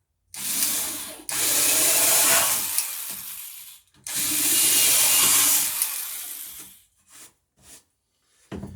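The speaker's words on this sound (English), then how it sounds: "And the smaller drill through the pine." A smaller drill bores through pine for a wooden boat stem, grinding in two long loud bursts of a few seconds each, followed by short clicks and pauses as the bit stops and restarts.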